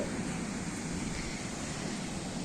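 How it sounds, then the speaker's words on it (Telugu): Large ocean waves surge onto an empty beach in a steady, loud wash of surf noise, constant and broad throughout with no clear breaks and no voices. "అలలు కూడా చాలా పెద్ద వస్తున్నాయి"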